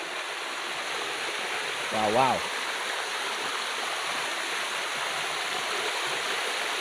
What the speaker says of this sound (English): This is the most beautiful waterfall in Siem Reap, Cambodia.